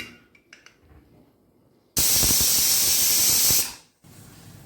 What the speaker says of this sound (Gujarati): અને હવે ઢાંકણ ઢાંકીને આપણે પાંચ સીટી ખાવા દઈશું